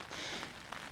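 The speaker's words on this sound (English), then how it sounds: "it is raining" Steady rain falling outdoors, a dense broadband hiss with a few louder drop spatters, close and continuous with no one talking.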